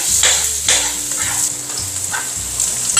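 Garlic sautéing in a pan for spaghetti with creamy cheese sauce: a loud, close, hissing sizzle with scraping stirs, steady over a faint low hum.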